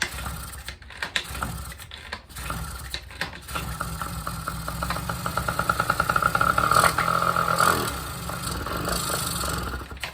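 Small Honda Express NC50 moped engine being hand started, rapid mechanical clatter and pulses building into a steady near idle with a brief rev, loud and alone.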